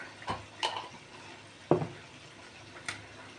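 Fried chicken seasoning with soy sauce and black pepper is stirred in a bowl, giving a few sparse, soft scrapes and wet knocks spaced about a second apart over a quiet background.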